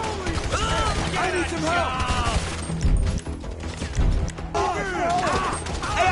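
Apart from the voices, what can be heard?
gunfire in GTA 5 video game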